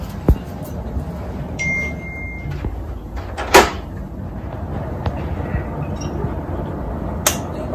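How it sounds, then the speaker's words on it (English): A door is shut and locked indoors: a couple of sharp clacks and thuds stand out against a steady background hum. "Hey, Ryan, go lock the fucking door."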